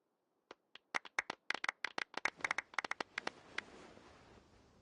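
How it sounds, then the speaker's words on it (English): Clapping during a video game award-ceremony cutscene, about twenty sharp, separate claps that start slowly, quicken into a brisk rhythm, then fade into a soft trailing wash. "Let's give our champion Kaveh one last big round of applause."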